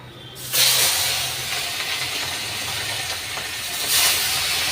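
Fish fries in hot oil with a loud, continuous hissing sizzle that surges as the pieces go in and swells again toward the end, close and alone.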